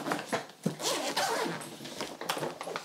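A zipper runs along the inner compartment of a carry-on suitcase with four caster wheels, making several quick rasping pulls in a row, close and fairly loud, with no talking.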